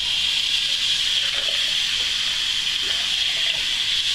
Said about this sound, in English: Let's rinse this conditioner out.